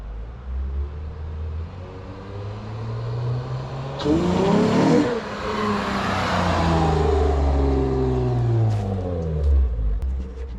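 A car engine revs and builds as it passes fairly close, with a deep, bubbling exhaust burble rumbling under the rising roar.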